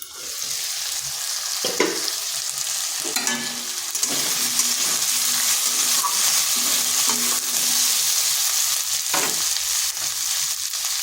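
Long-cut potato sticks sizzle steadily in a covered pan, a continuous bright hiss of frying oil broken by a few clattering stirs.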